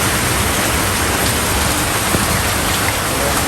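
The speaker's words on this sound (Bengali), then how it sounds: "দেখেন বাইরে বৃষ্টি হচ্ছে" Steady heavy rain falling outside a home during cooking, a constant loud even wash of noise with no breaks, close and enveloping.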